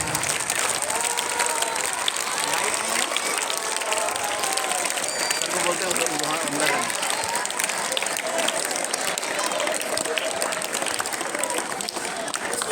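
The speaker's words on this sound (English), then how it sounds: "Let us give them a big clap" A crowd claps warmly for two departing sisters at a farewell party, steady continuous applause with scattered voices and shouts mixed in, sustained for the whole stretch.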